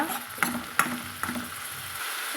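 Chopped large tomato being sautéed in a pan for a radish gravy: a steady, close sizzle broken by three sharp stirring knocks of a utensil against the pan. No one speaks.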